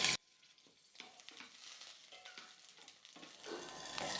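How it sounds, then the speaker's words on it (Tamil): Green chillies and onion frying in hot oil in a pan over a medium flame, a steady close sizzle with occasional stirring scrapes, growing slightly louder toward the end. "இந்த மாதிரி எண்ணெயில் பச்சை மிளகாவையும் வெங்காயத்தையும் வதக்கினா போதும்"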